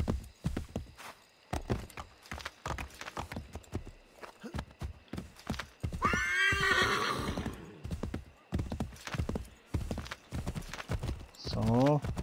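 Horse hooves clip-clop steadily in Assassin's Creed III, punctuated by a loud whinny midway and another brief neigh near the end, with someone talking over the game sounds.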